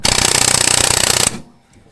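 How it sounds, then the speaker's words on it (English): An air hammer pounds at a seized bolt on a Polaris Xtra10 snowmobile skid from a 1999 XCR800, a loud, close, rapid rattling burst lasting just over a second before cutting off abruptly. "So we're going to give it the air hammer experience"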